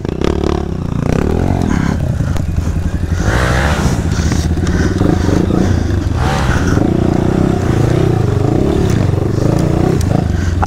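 Dirt bike motorcycle riding a rough trail, its engine droning and revving loudly and continuously up close, with clattering and scraping from the bumpy ground.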